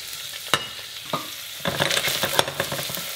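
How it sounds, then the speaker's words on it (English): Herbs thrown into hot oil for a cioppino fish soup, crackling and sizzling with a couple of sharp pops before a denser, continuous frying hiss, close by and without speech. "Once the oil is hot, you're going to throw in the herbs"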